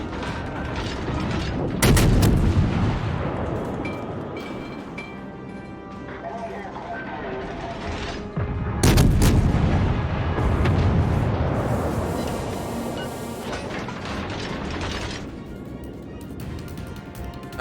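Naval gunfire from the Japanese cruiser Tenryū in a World of Warships battle, with two heavy broadband booms near 2 and 9 seconds over continuous game engine and ambient noise, under ongoing talk.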